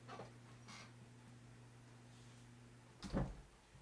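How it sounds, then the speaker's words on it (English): A door being shut indoors, heard as a faint rustle followed by a single soft thud near the end, over a quiet room with a low electrical hum. "Let me shut my door."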